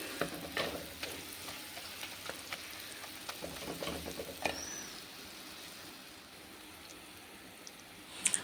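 Quiet, continuous sizzling of fish-curry masala paste cooking in oil, with occasional clicks and stirring scrapes, a few sharper taps at the very end.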